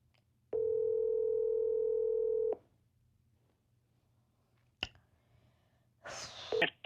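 A phone call rings out with one long, steady electronic tone lasting about two seconds, followed by quiet and a few brief clicks and bursts of handset noise.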